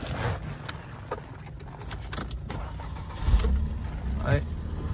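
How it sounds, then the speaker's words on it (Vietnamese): A used car with its original engine and about 100,000 km on it is started with the key: a brief low cranking rumble that catches into a running engine, heard under someone talking. "Tiện đây thì em nổ máy lên luôn"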